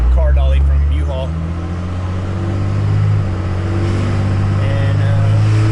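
A Ford F250 pickup with a swapped-in Cummins 12-valve diesel drives on the road, heard from inside as a steady, loud low engine drone, with people talking over it.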